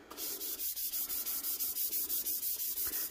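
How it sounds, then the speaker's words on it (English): A hand rubs and burnishes mica powder over tacky adhesive on a Dollar Tree wall tile tumbler, giving a steady run of close, soft, rhythmic rasping strokes with no talk. "Now I'm just going to burnish it with my hand to make sure it's all laying flat"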